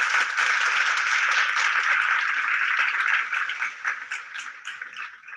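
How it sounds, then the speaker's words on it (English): Applause in a Zoom meeting, a bright, thick burst of clapping that holds steady, then thins into scattered individual claps toward the end. "Let's give a big round of applause to Grace and Grace to Organize."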